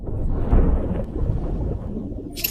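Deep rumbling thunder from deep-sea lightning near an undersea volcano field in an anime, a heavy broadband roll with a stronger crack about halfway through, filling the whole moment.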